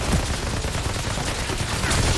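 Rapid bursts of gunfire from a scoped rifle in the shooter game Outriders, dense, continuous and loud throughout with no pause.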